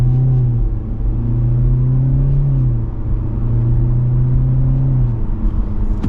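A 2024 Hyundai Elantra SEL with an IVT transmission pulls away after a manual downshift, its engine a steady droning hum that rises and dips slightly in pitch, heard loud from inside the cabin with no talk.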